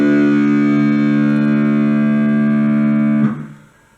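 A low open sixth guitar string tuned down to drop D rings out loud and sustained on its own, for a song, then is cut off near the end.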